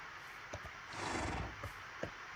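A horse from the Minecraft SWEM mod gives a single breathy neigh in the middle, fairly faint, with a few soft thuds before and after.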